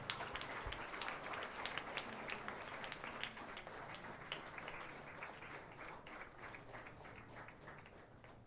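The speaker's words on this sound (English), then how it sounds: "I request you all to please rise and welcome him with a big round of applause" Audience in an IIT Madras auditorium applauds to welcome an arriving dignitary at a formal event. The clapping is faint and distant, a steady patter of many hands that lasts throughout.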